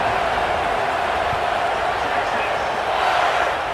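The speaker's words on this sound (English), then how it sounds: "the crowd is making it really hard to communicate and hear each other right now down on the field" Loud stadium crowd at a West Virginia vs Texas college football playoff game, a dense continuous roar that stays steady throughout, with a voice talking faintly underneath.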